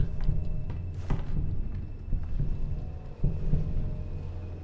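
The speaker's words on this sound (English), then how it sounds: "I keep hearing a heartbeat." A heartbeat in the horror video game Bendy and the Dark Revival, low dull thumps repeating at uneven intervals over a murky ambient hum, with no talking.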